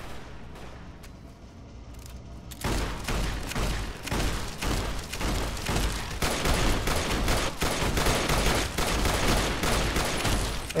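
Dense, loud gunfire from the Fallout: New Vegas game during the Hoover Dam battle. A quieter stretch with scattered shots gives way to sustained rapid volleys and bursts that continue without a break.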